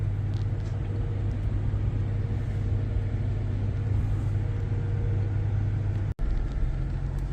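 A big truck drives along the road, giving a steady, loud low-frequency rumble that holds for several seconds with a brief dropout near the end.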